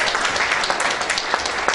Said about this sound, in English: Can we have a huge round of applause?